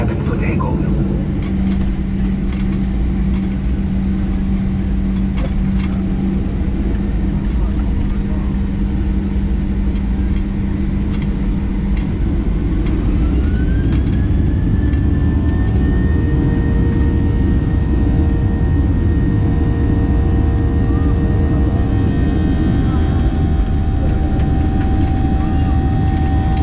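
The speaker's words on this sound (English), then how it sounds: "Cabin crew, please prepare the cabin for takeoff." Mango Airlines passenger jet on its takeoff run, a loud steady engine roar building from inside the cabin, a rising whine joining midway, with a cabin announcement spoken over the opening part.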